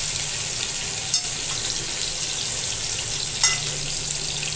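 Stuffed ridge gourd (ghosali) roasts in a wide pan, giving a steady close sizzle of frying with two brief sharp clinks from utensils.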